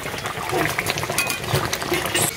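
Chicken curry with shahi garam masala simmers in a pot, giving a bubbling, gurgling boil with irregular pops, close and moderately loud.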